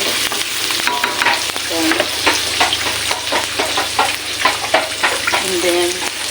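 Moringa pods and vegetables sizzle in a hot pan while being sautéed, with repeated scraping stirs of a utensil over constant frying crackle, and a brief spoken word.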